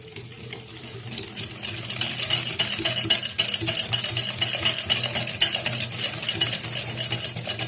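Basbousa batter being mixed in a bowl, with sugar and other ingredients, in a home kitchen. Steady scraping and stirring texture runs throughout and grows louder after the first couple of seconds, with no talk.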